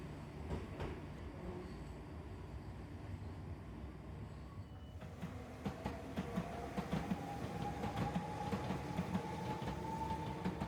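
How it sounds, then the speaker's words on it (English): A train in Enoshima, Japan rumbles and clatters as it pulls away from a station, quiet at first and then louder, with rhythmic wheel clicks and a rising mechanical whine. "Having filmed the train leaving station number 3"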